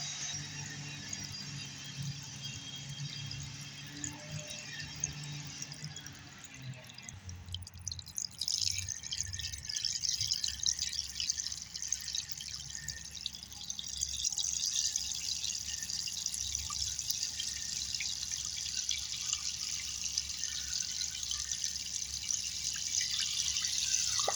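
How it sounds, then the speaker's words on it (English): Water trickles over sediment and rocks in an erosion demonstration, a soft steady flow that grows stronger and brighter partway through, rising again later as the stream speeds up, with no talking. "We're going to start with the water at just a trickle"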